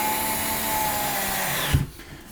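A power driver whines steadily as a screw is driven into a wooden model railroad layout deck from below, then cuts off abruptly with a brief thump.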